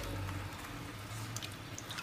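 Water pours and drips steadily while lentils are washed in a basket under a running tap, a soft continuous trickle with faint splashes and no voices.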